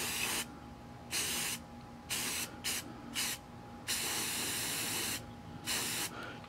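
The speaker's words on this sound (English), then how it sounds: "And we're just gonna use some green spray paint." A can of green spray paint hisses in a series of bursts, some long and some short, separated by brief pauses, with steady faint background hum.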